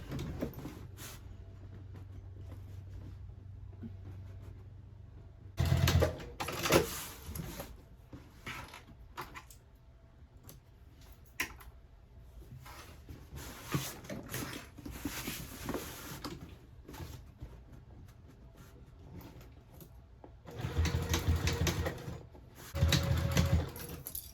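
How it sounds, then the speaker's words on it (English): Sewing machine stitching a half-inch seam on a tote bag, with two loud bursts of rapid machine running separated by a long stretch of quieter handling and small mechanical noises. "we'll go ahead and sew that at 1/2 inch"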